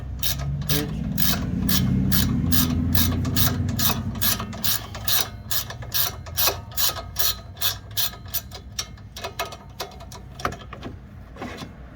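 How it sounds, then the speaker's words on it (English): A ratchet wrench with a 5/8 socket and an 8mm Allen bit clicks in a steady, rapid run of close, crisp pawl ticks, working on a 2020 Jeep Cherokee KL during a 2-inch lift install, with no voices. "This is a 5/8 with an 8mm Allen wrench"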